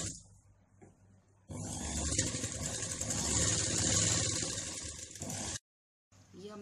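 A sewing machine runs steadily for about four seconds, stitching the armhole seam of a lined blouse. It whirs loud and close, then stops abruptly, and starts again faintly at the end. No one speaks.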